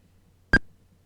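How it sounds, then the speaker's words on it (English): A single short electronic beep from Bernina V9 embroidery software on a computer, a clean tonal blip sounding once against a quiet background. "And you probably heard it beep."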